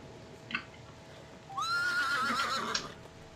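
A horse in the video game Hitman: Contracts whinnies loudly for about a second, a wavering high neigh, with a brief softer snort just before it over quiet background hum.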